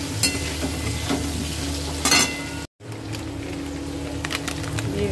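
Masala is stirred in a cooking pan over a steady sizzle, with a few scraping strokes and a brief dropout midway, close and loud with no one talking.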